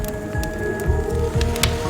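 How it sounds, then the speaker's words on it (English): Steady warm summer night rain in Hooked On You, a soft continuous patter with scattered louder drops, heard alone without speech. "Warm rain seeped from the sky like blood from an old wound."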